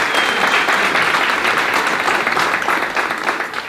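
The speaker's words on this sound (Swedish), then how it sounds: "men ge en liten applåd." A crowd applauds loudly and continuously, a thick wash of clapping from an audience that holds steady for a few seconds before slowly easing off.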